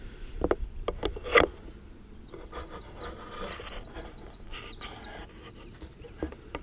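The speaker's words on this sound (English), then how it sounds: "Beautiful dawn chorus this morning." A dawn chorus of birds beside the River Thames at a riverside camp, with scattered chirps and calls over a soft background, plus a few close knocks and rubbing sounds early on.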